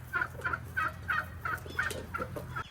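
Loud chickens coming out of their coop in the morning call in a steady rhythmic series, about nine repeated clucking squawks, close and clear over a low background hum.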